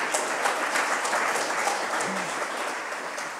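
Conference audience applauds the architect of a Montreal stadium design, a brief even patter of many hands clapping at moderate distance, fading slightly toward the end.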